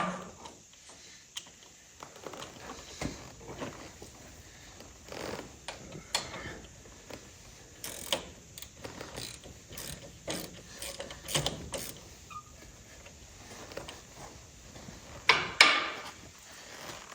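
Socket ratchet clicking while working on spark plugs of a 1951 Allis Chalmers WD tractor, sounding as quiet intermittent ratcheting bursts with small metallic clicks and a sharper clatter near the end, no talking.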